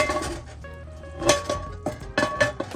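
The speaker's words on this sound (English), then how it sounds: "I'll put this on top of the pan" A pan is set down on top of a cast iron pan cooking cinnamon apple rolls on the stovetop, giving several close metallic clanks and clinks in quick succession.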